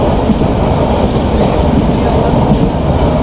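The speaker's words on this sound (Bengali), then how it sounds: "এই দেখেন কী গতিতে চলতেছে ঝানাত ঝানাত করে" Probal Express passenger train with old-style coaches running at speed between Cox's Bazar and Chittagong, a loud continuous rumble with rhythmic clatter of wheels on rails, heard close from inside the carriage.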